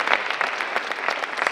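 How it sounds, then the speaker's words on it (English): An audience at a Snow College convocation applauds, a steady wash of many hands clapping at close range with no speech over it. "So give yourselves a round of applause for that."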